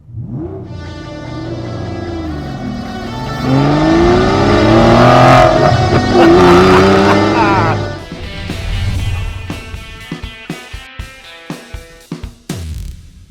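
A 2017 Aston Martin V12 Vantage S with a seven-speed dogleg manual gearbox revs up loudly, its engine note climbing through a gear change, then settles into burbling pops and crackles as it eases off, heard up close.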